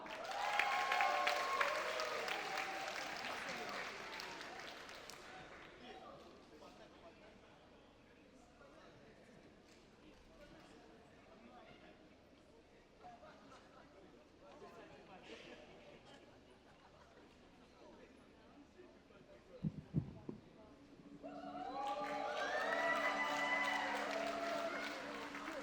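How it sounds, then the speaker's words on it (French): A talent show audience bursts into loud applause with cheering, which fades into murmuring crowd chatter and a few knocks before another strong round of clapping builds near the end. "S'il vous plaît, applaudissez-la."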